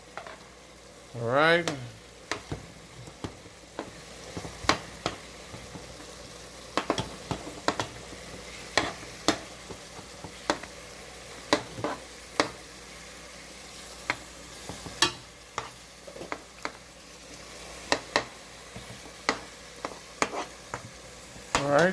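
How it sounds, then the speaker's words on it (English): A vegan jambalaya mixture with homemade Cajun seasoning stirred in a cooking pot: a low sizzle under repeated clicks and scrapes of a utensil against the pot, close by, with a brief spoken remark. "you're going to give that a little stir"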